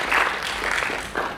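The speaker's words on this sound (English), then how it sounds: "I think we also need to clap for the chair." Workshop audience giving a brief round of applause for the chair, a short burst of clapping from a room full of people that fades within a second or two.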